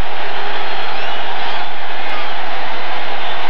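A big football stadium crowd roars after an Eagles interception against the Giants in a 1990 game, a loud, dense, sustained wash of cheering with no letup.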